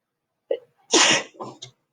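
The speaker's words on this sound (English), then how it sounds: "Sorry, I have to sneeze." A single close sneeze, a short intake followed by a sharp burst and a brief trailing sound, loud and isolated.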